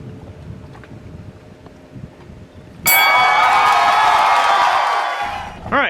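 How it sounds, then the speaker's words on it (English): A sailboat's engine kicks in while at anchor on the Great Bahama Bank, jumping abruptly from quiet wind noise to a loud, steady, buzzing roar that then eases off. "got the engine warming up"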